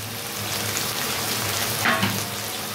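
Dried kachki fish fries in a pan with onion greens. A constant close sizzle runs under a brief scrape of stirring near the end, with no talk.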